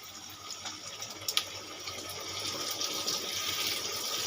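Water poured into a pan of paneer and pointed gourd, a steady splashing trickle rising slightly in strength, with a couple of small clinks near the middle.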